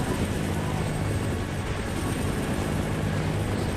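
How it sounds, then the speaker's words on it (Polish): Three helicopters in the video game Fahrenheit Indigo Prophecy Remastered make a dense, continuous rotor and engine roar that fills the scene steadily and loudly throughout. "Trzy helikoptery, nice."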